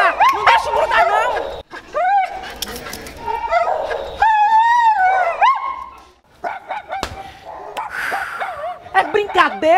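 A female dog in heat barks, yips and whimpers in a rapid, close run of high cries, with other barking mixed in and people talking excitedly around it.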